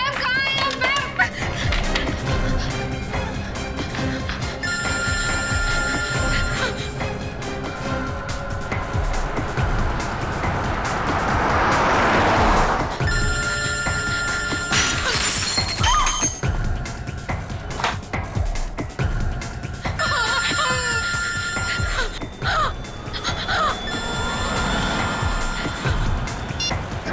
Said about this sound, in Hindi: कोई फोन ही नहीं उठा।